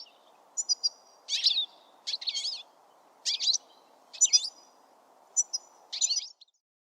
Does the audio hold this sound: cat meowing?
no